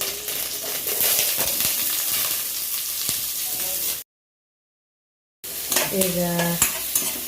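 Onions frying in coconut oil with mustard seeds and curry leaves, stirred with a metal spoon: steady sizzle and scraping, a short silent gap, then clinks against the pan and a brief spoken word.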